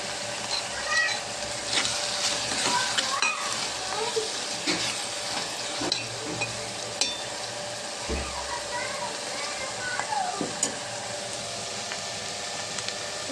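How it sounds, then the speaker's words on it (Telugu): Onions and dried red chilies frying in oil in a pan give a soft, continuous sizzle with scattered crackles and pops, fairly quiet and steady throughout, with a voice briefly heard. "కొంచెం పచ్చివాసన పోయేదాకా ఫ్రై చేద్దామండి"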